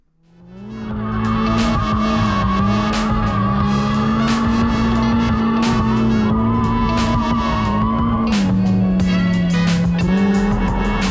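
A stock Mazda Miata drifting, its engine holding a loud sustained drone with tire skidding layered over it, continuous and close throughout with no talking.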